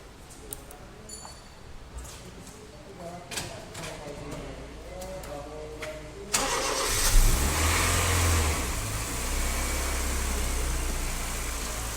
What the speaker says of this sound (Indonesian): Kemudian kita starter mesin, kita lihat sistem pengisiannya.